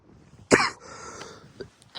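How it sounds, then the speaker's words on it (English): A single sharp, close cough from a person hiking outdoors in winter wind, followed by faint breathy noise and light rustling. "I'm still coughing like a nutter"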